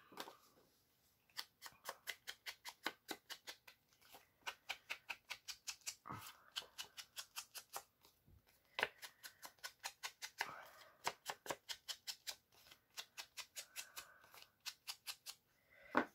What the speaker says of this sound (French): J'ai juste coupé en haut et en bas pour que ça soit exactement coupé au même endroit que la page en dessous.